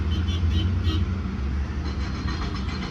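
Dense, heavy traffic crawling through a congested mountain ghat road, a continuous low engine rumble from cars and larger vehicles filling the whole stretch, close and steady.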